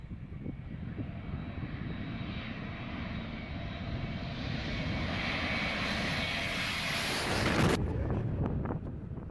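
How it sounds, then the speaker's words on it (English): An Airbus A321neo jet lands low over spectators at Skiathos, Greece, its engines roaring steadily and building louder as it passes close, with wind buffeting the microphone. "This Airbus A321neo came in unusually low, almost hitting spectators while landing in Skiathos, Greece."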